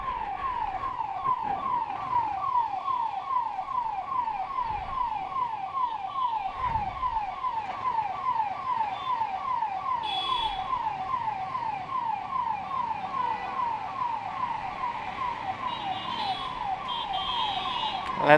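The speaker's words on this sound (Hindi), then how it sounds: "बेचारी एम्बुलेंस फंसी पड़ी है" An ambulance siren wails in a fast, steady repeating yelp, loud and near, while the vehicle sits stuck in traffic on a waterlogged road after heavy rain; faint traffic noise lies underneath.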